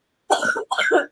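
Two short bursts of coughing, close and fairly loud, with a brief pause between them and no talking.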